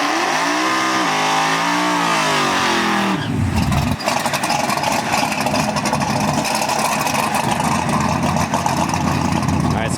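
A drag car revs hard on a street test hit, its engine climbing in pitch for a few seconds before cutting into a loud, sustained roar as it launches, with voices faintly underneath.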